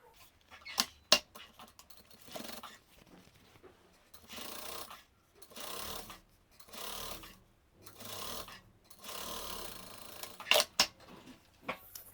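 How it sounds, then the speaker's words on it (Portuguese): Home sewing machine running bursts of topstitching along the top edge of a fabric eyeglasses organizer, several short runs with pauses between, moderately close, with a few sharp clicks and handling knocks. "Vou vir na máquina e vou passar uma costurinha de pesponto aqui na extensão inteira na parte"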